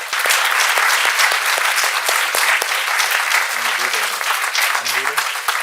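An audience applauds steadily to welcome author Amitav Ghosh and Julia Wheeler at a Bangalore book launch, a dense sustained clapping with a few sharp claps up front and faint voices emerging near the end.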